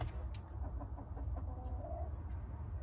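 A hen that is growing back her feathers clucks softly near a village coop. Her low clucks are brief and repeated against a constant background rumble, with a few sharper chirps mixed in. Nobody speaks.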